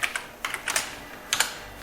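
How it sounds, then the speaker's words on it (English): Short bursts of computer keyboard typing, a few quick keystroke clusters separated by brief pauses, close and fairly quiet while a file name is entered in airfoil simulation software. "So we type NACA, the file name is"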